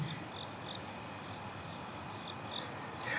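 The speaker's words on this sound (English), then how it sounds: "I actually hear crickets right now." Crickets chirp faintly in a quiet outdoor setting, a thin repeating trill carrying steadily through the whole stretch with no talking.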